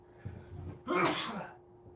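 A single loud sneeze bursts out near the mic after a brief intake of breath, then fades into quiet room noise.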